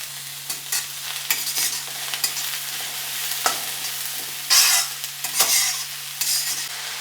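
Two finely chopped onions sizzle and fry in a pan with a little salt, stirred now and then with scraping spoon strokes over a steady close hiss.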